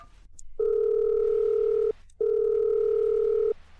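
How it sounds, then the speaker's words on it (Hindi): Two long, steady telephone ringback tones, each about a second and a half, separated by a short pause; clear and close with no voices. "क्रिस्टल, तुम फोन क्यों नहीं उठा रही?"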